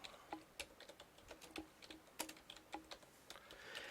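Computer keyboard typing, a quick irregular run of distinct close key taps, fairly quiet, with no voices.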